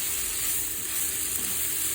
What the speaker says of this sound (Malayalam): ഇനി നമുക്ക് ഈ പൊടികളെല്ലാം കൂടെ അതിലോട്ട് ഇട്ട് വഴറ്റിയെടുക്കണം.